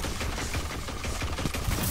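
Continuous rapid weapon fire in Destiny 2 PvP, a steady stream of close, loud shots with no pauses and no voices.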